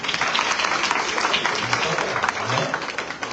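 Steady, dense clapping from a church congregation during a Good Friday worship service, continuous applause with a faint murmur of voices underneath.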